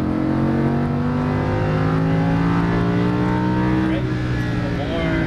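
A Lamborghini Huracan LP610-4 drives on a race track, its engine droning loud and steady from inside the car with a pitch that climbs and shifts near the end, while a voice talks over it.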